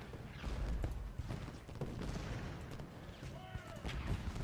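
Cannon and musket volleys from a Civil War battle in the strategy game Ultimate General: Gettysburg, a dense, continuous rumble of booms and crackling shots with no clear gaps, moderately loud throughout.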